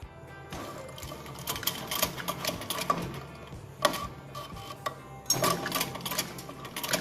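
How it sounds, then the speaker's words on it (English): A sewing machine stitches around the waistband of a six-panelled petticoat, running in steady mechanical bursts with brief pauses and clicks between runs, close and fairly loud with no talking. "Now we are sewing along our waist on the petticoat."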